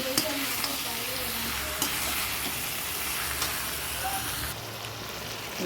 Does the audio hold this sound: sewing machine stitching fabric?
no